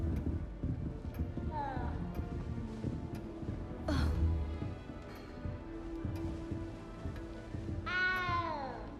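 A cat meowing in Hogwarts Legacy, a couple of rising meows near the start and a louder one near the end, heard amid game ambience and background speech.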